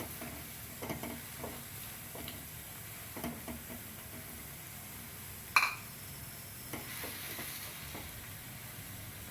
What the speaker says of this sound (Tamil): கொஞ்சம் கொஞ்சமாக நெய் போட்டு கிண்டிக்கினே இருக்கணும், கை விடாத கிளறணும்.